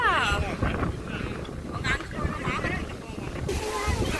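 Strong wind gusts blow across a microphone outdoors at a family orchard, a steady rushing roar with people talking over it.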